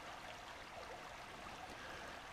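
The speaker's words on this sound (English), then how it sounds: "next to a little stream." A small brook runs through the wilderness in mid-April with a steady, even rush and trickle of water, continuous and fairly quiet with no voices.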